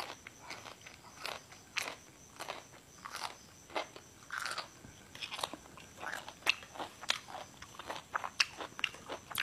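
Crisp, crunchy chewing of fresh vegetables such as phak kood fern shoots, eaten with spicy steamed fish dip; repeated close bites and crunches come in an irregular rhythm with short gaps, with no talking.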